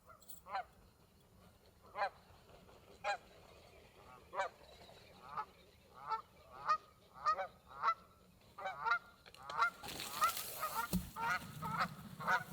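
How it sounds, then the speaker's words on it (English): Geese honk repeatedly while flying past at a morning hunting blind, the calls sharp and regularly spaced, growing closer and louder, then a broad rushing noise in the last few seconds. "First geese of the morning."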